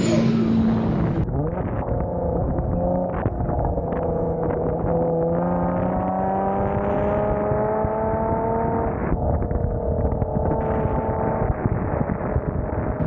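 A Kia or Hyundai car on Mickey Thompson rear tires accelerates hard from first gear, the engine note climbing repeatedly with each paddle shift, loud and close from inside the cabin.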